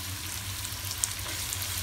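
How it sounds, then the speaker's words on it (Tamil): Onions frying in a pan for a bean curd masala, a steady close sizzle with a soft hiss running throughout, no voices. "இது ஒரு 2 மினிட்ஸில் இப்போ வதங்கிடும், வெயிட் பண்ணி பாருங்க."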